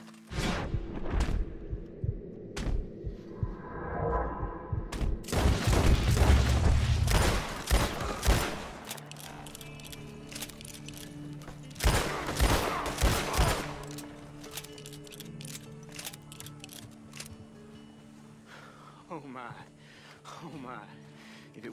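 Gunfire in the video game Red Dead Redemption 2 during a fight in the town of Armadillo: loud rapid volleys of shots and booming reports, crowded together then thinning to scattered single cracks, with in-game voices shouting over the battle.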